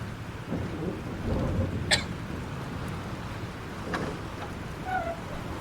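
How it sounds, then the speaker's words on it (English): Thunderstorm with heavy rain in the video game Life Is Strange, a steady roar of rain with low rumbling thunder and a few sharp crackles, loud and continuous with no talk. "This storm's real."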